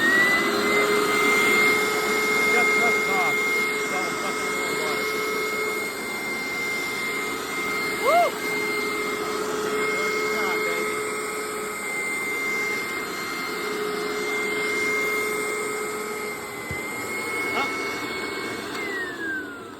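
A Hoover SteamVac Dual V carpet cleaner running on a newer carpet, a loud steady motor whine and suction roar that holds close throughout with slight pitch shifts.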